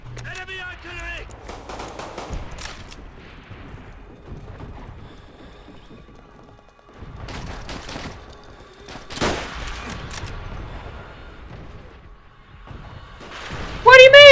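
Bursts of enemy artillery and scattered gunfire boom through a Call of Duty: WWII battle, with loud impacts and crackling shots spread across the scene and voices talking over the noise.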